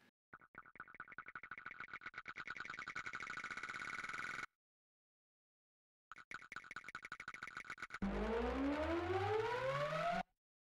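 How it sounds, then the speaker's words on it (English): Rising synth swells from a song chorus, rapid pulsing tones climbing in pitch like a siren, pausing briefly, then returning with a sweeping upward glide, loud and without voices. "A couple of rising sounds, we called it. As the swells in the chorus, there was these things going on."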